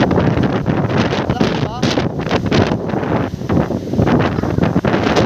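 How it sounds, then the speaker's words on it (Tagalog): Strong typhoon wind in Boracay roars and buffets the microphone in a constant heavy rush, with muffled voices partly buried under the noise. "Lakas pa rin ang hangin guys."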